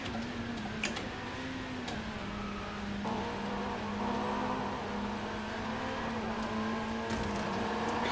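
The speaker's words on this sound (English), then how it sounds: "Car engine sound" A steady car engine drone in Driveclub VR, with shifting pitch as it revs up and down, continuous and fairly loud, with faint clicks on top.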